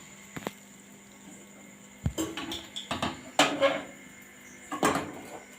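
Fried water spinach greens are tossed in a basket, with a few bursts of rustling and light clattering shakes separated by pauses, close and moderately loud.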